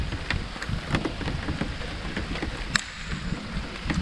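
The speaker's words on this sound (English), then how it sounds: "it is really coming down out here" Heavy rain pours steadily, heard from under a tree, a dense hiss with scattered close drips and drops striking nearby surfaces, no voices.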